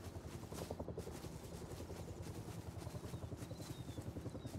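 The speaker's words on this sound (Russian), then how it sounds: "Ой, надо осторожно с этим вертолетом." A helicopter in a survival video game thrums with a steady, rapid rotor chop, close and continuous over a low engine drone, with no talking.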